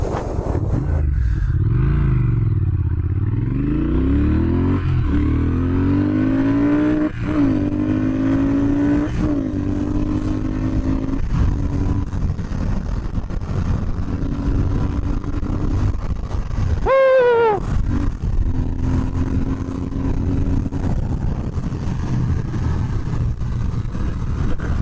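Triumph Speed Twin motorcycle accelerating from a standstill to sixty, engine pitch climbing through several gear changes, a brief throttle-off blip midway, then steady cruising, loud and close under wind noise.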